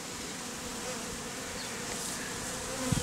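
Honey bees swarm and buzz in a dense, steady drone as they are shaken off a man's beard into a box, the hum filling the air closely throughout.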